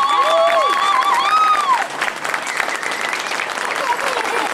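A crowd applauds a crooner at an evening band concert in Mazingarbe, loud dense clapping with whistles and cheers over it early on, then continuing as a busy steady roar of hands.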